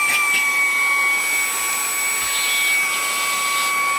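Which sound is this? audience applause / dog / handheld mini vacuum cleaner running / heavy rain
handheld mini vacuum cleaner running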